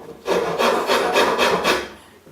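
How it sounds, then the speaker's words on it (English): A wood rasp files the inside curve of a teak handrail, giving five or six quick, evenly spaced scraping strokes up close with no talking. "So we're using a wood rasp."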